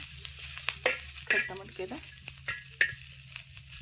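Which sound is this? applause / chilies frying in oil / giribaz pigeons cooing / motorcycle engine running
chilies frying in oil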